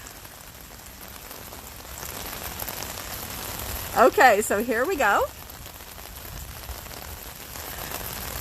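Steady rain patters across the grounds of Cornell Botanic Gardens, a continuous wash that runs through the whole stretch while a nearby voice speaks briefly midway.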